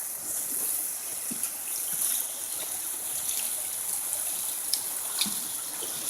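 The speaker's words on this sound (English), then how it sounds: "This waterfall is a beauty." A waterfall flows as a steady, moderately loud broadband rush of falling water that continues evenly throughout, with a few faint clicks and no talking.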